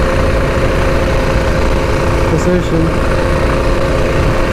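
A Predator 212 mini bike engine runs steadily at a quarter to half throttle, a constant low drone with an even mechanical hum under brief talk during a first ride.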